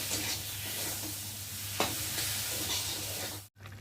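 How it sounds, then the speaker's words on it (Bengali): Mustard paste stirred in a frying pan for a tilapia curry gives a soft steady sizzle with light stirring scrapes, a low constant hum underneath, and a brief dropout near the end. "সর্ষে বাটাটা দিয়ে একটু ভালো করে নেড়ে চেড়ে নেব।"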